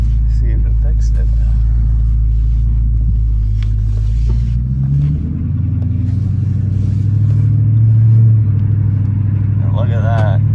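A Dodge Charger drives on the road after a transmission repair, its engine giving a loud, close, low rumble that swells as it accelerates, with an interior cabin drone throughout.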